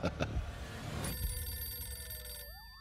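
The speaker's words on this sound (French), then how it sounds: "le téléphone qui est là va sonner." A telephone in a thriller film scene rings, a steady electronic tone that starts sharply after a few heavy thuds and holds for over a second before shifting to a rising warble.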